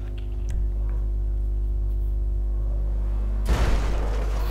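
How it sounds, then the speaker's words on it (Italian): A sudden loud burst hits near the end of a GTA video game scene, an explosion blowing out a car's windows, cutting through a steady low hum that fills most of the moment. "poi esplodono tutti i vetri sia davanti, dietro, di fianco, tutto"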